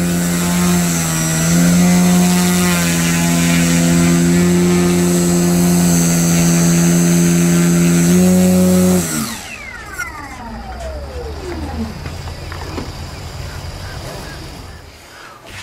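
Addiction X model aircraft spinning up into a hover, a loud close whine with strong steady harmonics that then drops away into sweeping falling tones and rushing noise.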